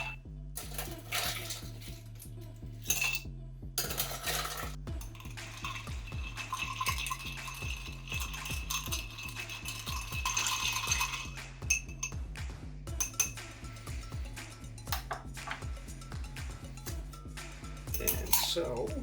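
Ice cubes clink and rattle against glassware and metal while being stirred into a whiskey cocktail with spiced cherry bitters and orange bitters, making a continuous jangling chatter of knocks over about twenty seconds.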